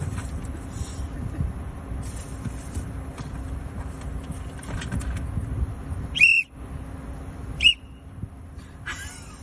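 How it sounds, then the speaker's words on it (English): Two short, shrill whistle blasts a second or so apart, rising above a low steady background rumble. "Blow the whistle."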